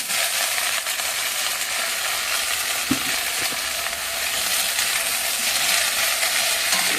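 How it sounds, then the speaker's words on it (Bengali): Potatoes and Malabar spinach fry in hot oil with green chilli, onion, garlic and ginger, giving a continuous, dense sizzle close by, with a couple of soft clinks from a utensil partway through. "এইবারে তেলের মধ্যে কাঁচা লঙ্কা, পেঁয়াজ, রসুন, আদা কুচি দিয়ে কষিয়ে নিয়ে এবার মাছের আলু আর পুঁই শাকটা ঢেলে দেবো"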